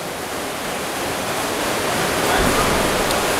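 Swimmers churn the water in a women's 50m freestyle race at the Riga Sprint 2013 meet, a dense, continuous splashing wash that grows slightly louder toward the end, with faint commentary underneath.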